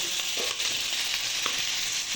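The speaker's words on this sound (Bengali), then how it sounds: "এবার এর মধ্যে আমি দিয়ে দেব ভাপিয়ে রাখা ওল," Steamed elephant foot yam frying with prawns in a pan, a constant close sizzle with light stirring scrapes and small pops, no voices.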